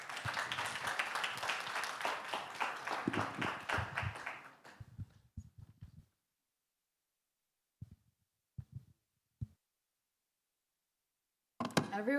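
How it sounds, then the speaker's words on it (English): Audience applause at a marketing conference in Dubai, a dense burst of clapping that fades out into a few isolated claps and silence, then resumes briefly at the end. "can I please ask you to put your hands in another very well-deserved round of applause"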